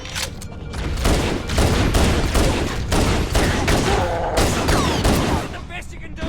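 Heavy gunfire in the video game Halo: Combat Evolved Anniversary, dense overlapping bursts and shots with booming impacts throughout, loud, with voices shouting over the firefight.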